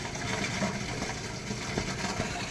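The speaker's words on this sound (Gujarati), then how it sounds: "બોરમાં ફૂલ પાણી પડે ને એવો અવાજ આવે છે." Water rushes steadily down into a village borewell after heavy rain, a continuous hollow gushing roar that stays even and fairly loud throughout, with no voices.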